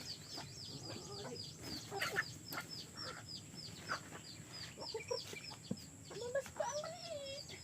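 Chickens and small chicks cluck and chirp busily at close range during feeding on a countryside farm, with overlapping calls throughout and brief human speech mixed in.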